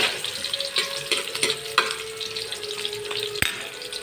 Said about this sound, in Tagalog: Oh, nagisa na ako ng bawang at sibuyas.